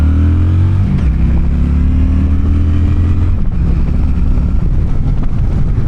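A Honda Shadow Phantom 750 motorcycle pulls hard up to highway speed, its loud engine note climbing and then dropping as it shifts, under heavy wind rush.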